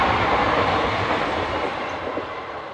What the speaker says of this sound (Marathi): अजून एक ट्रेन येते समोरून